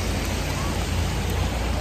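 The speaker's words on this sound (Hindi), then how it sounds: "बारिश हो रही है तेज वाली" Heavy rain pours steadily on a street on a UK morning, drumming on an open umbrella overhead as a loud, continuous, dense hiss with a low rumble beneath.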